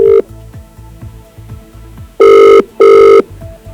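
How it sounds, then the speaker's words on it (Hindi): An outgoing telephone call ringing through to a chairman's phone: two loud, buzzing ring bursts about half a second apart, preceded by a short tone and a soft repeating pulse in the line. "जब्बार अली जो कि चेयरमैन है, उनको फिर से हम फोन लगा रहे हैं और ये रिंग जा रही है"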